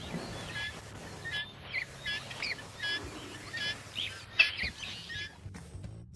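A dik-dik antelope gives an alarm call to warn its herd of nearby danger: a run of about eight short, high, chirping whistles in an uneven rhythm over a faint low rumble.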